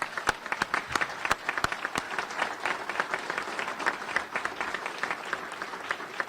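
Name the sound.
audience applause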